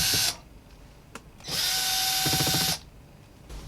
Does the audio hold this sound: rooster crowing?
no